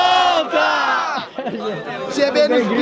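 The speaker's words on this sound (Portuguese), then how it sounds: "Quem gostou das rimas do Nando faz barulho" Crowd at a student rap battle cheering and shouting loudly, a dense roar of yells and whoops close up, with voices calling out over it.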